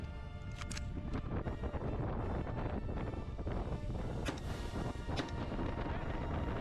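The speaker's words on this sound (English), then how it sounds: "You can see just how windy it is" Strong wind buffets a microphone at an outdoor shooting range during a multigun match, making a constant rough low rumble with a few brief sharp knocks.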